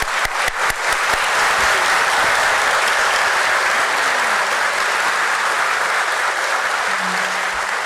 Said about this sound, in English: let's have a huge round of applause for DOMS team.